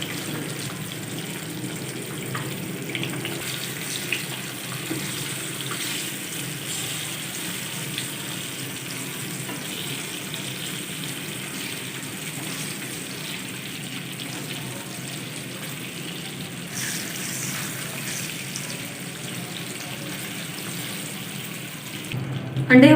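Boiled eggs frying in spiced oil in a pan for egg masala, a steady soft sizzle running throughout with occasional stirring scrapes and a louder clatter at the end, fairly quiet, no talking.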